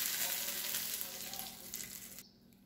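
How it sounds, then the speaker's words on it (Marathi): Mustard seeds tempering in very hot oil give off a loud, close, steady crackling sizzle that fades slightly and then cuts off abruptly near the end. "यावर छान अशी फोडणी द्यायची"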